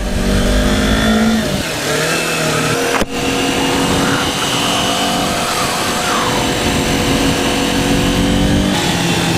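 A Kawasaki Ninja 400 motorcycle heads out on a memorial charity run, its engine droning loud and close throughout, with pitch shifts through the gears early on and a steady roar afterward; no voices.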